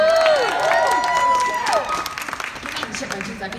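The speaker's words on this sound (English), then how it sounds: "A little round of applause for Jen." Audience applause and cheering for a tour manager at a concert-tour Q&A in Phoenix, a crowd clapping with a few shouts, while loud whistle-like tones and squeals cut through in the opening seconds before the clapping thins out.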